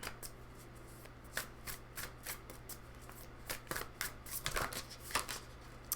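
A tarot card deck bought on Etsy is shuffled by hand, producing rapid, close, rustling riffles and snaps in a busy irregular rhythm over a faint steady hum.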